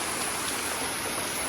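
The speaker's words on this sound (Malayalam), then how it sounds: "നോക്കിയേ, നല്ല മഴ" Heavy rain pours down close by, a dense, unbroken roar of drops on surfaces with no pauses.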